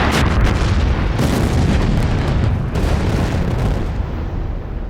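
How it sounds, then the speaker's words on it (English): A deep, rumbling dynamite blast at a dam construction site rolls on for several seconds, loud and heavy, with crackling rock debris noise trailing off at the end. "huge explosions shake the valley"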